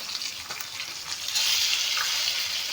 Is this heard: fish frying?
yes